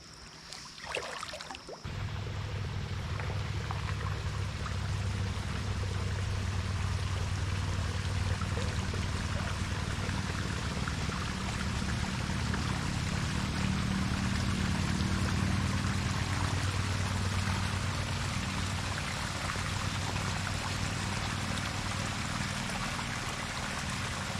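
Steady rain falls during a kayak outing, making a continuous, even hiss of drops on water and the boat. After a brief rustle at the start it stays constant, close and unbroken, with no voices.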